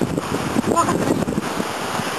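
At the seaside, sea waves and gusting wind blow against the microphone, a rough, rumbling wash that is close and fairly loud, with faint voices mixed in.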